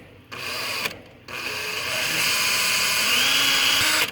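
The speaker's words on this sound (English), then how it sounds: "Put that in a drill. And we're going to drill these holes out." A power drill boring out holes while cleaning up a corroded, crusty battery: a loud, close, high-pitched whine that starts briefly twice, then runs steadily and strains slightly toward the end, with no speech.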